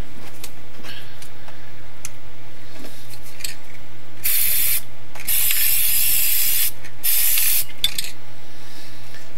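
An aerosol spray paint can hisses over masking in an art journal, three loud bursts of about a second each separated by pauses, with faint outdoor background and no talk.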